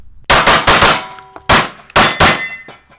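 Shots from a Springfield Echelon pistol: five sharp, loud reports in two quick groups, each with a bright metallic ring and a short echo tail, close to the listener with no talking.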